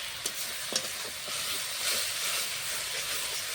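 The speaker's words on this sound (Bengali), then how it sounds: "মশলাটা ভালো করে কষানো হোক" Chicken frying with a paste of ginger, garlic, onion, chili and masala: a steady, fairly quiet sizzle with a couple of sharp spatters near the start, with no talk.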